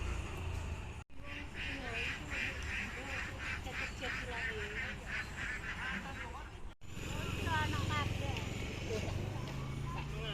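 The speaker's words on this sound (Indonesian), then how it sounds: "Itu ya juga ada bebek." Ducks quack in a scattered, repeated chorus near a railway track, the calls sounding steadily under a continuous outdoor rumble, with two brief dropouts and a voice talking at times.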